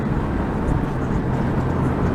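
A car with a 3.8 3800 V6 engine drives along, a continuous, muffled engine rumble and road noise heard from inside the cabin over a short, even stretch.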